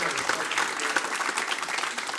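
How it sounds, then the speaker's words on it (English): A crowd applauds with steady clapping that continues for a couple of seconds, moderately loud and slightly distant. "give them a round of applause"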